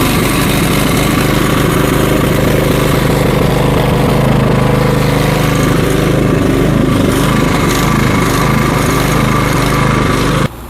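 A Cub Cadet snowblower's small engine runs loud and steady for the whole stretch at a constant idle-like drone, then cuts off sharply right at the end.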